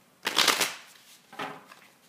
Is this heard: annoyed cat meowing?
no